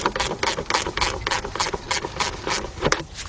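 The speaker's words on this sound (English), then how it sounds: "These wrenches are kind of cool because they act like ratchets." Blue Point speed wrench ratcheting, a rapid run of about a dozen close, crisp metallic clicks in steady rhythm, alone without talk.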